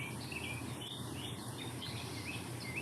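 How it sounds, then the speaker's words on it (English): Birds sing outdoors in the morning, with several high chirping calls and short trills spread across a soft background of insect-like buzzing, all fairly faint and distant, with no talking. "Jill, I hear the birds on your end, and the birds are singing here."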